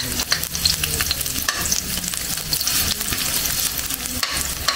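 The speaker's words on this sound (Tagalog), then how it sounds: "Lagyan natin ng luya muna. Gisa-gisa." Ginger and onion sizzle and crackle in a hot pan while being stirred, a dense, continuous frying hiss with scraping and stirring clatter, close and alone, for chicken feet tinola.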